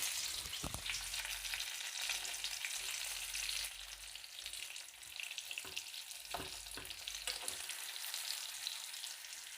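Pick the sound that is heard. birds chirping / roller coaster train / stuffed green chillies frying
stuffed green chillies frying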